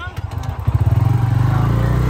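A Bajaj Freedom 125 CNG motorcycle's single-cylinder engine starts up and idles with a steady, close putter, its beat firming as it settles, while someone talks over it.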